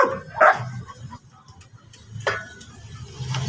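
A dog barks at a hen in a backyard where pet chickens are laying eggs, giving a couple of short, sharp barks at moderate distance against quiet surroundings.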